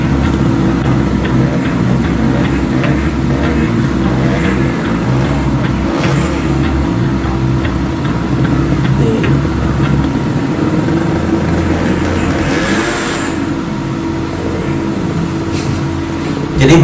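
A steady, rumbling motorcycle engine drone at a night-time illegal street drag race, including a Suzuki Satria FU 150 cc, runs throughout with road noise, holding fairly constant without clear rises.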